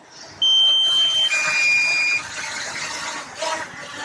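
DJI Mini 4K drone sounding its low battery warning while flying high, two sustained electronic beep tones in a row, loud and close, over a faint background rush.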